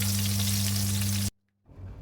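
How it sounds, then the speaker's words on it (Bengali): Eggplant and vegetables frying in a pan, a dense steady sizzle with a low electrical hum, cutting out abruptly to near silence before a fainter sizzle resumes. "বাইরে বেগুন ভাজাটা বসা দিচ্ছে এখন ডাল ভাজি শেষ এখন এটা আস্তে আস্তে ভাজিটা হোক"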